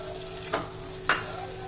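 Chopped garlic, chili and ginger are stirred in melted butter in a pan, with a steady soft sizzle and two brief scraping strokes of a spoon, close and quiet, no voices.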